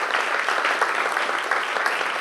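Audience at a conference on francophonie in Ottawa applauding, a steady, fairly loud burst of many hands clapping together with no speech over it.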